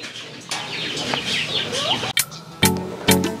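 Chickens on a farm cluck and squawk in a busy close flock, with scattered sharp calls and flapping near the end.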